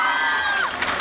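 A live outdoor concert crowd at a 2017 event in Brusciano cheering and whooping in one sustained roar, with a rising shout near the middle and a burst of clapping toward the end, loud and close.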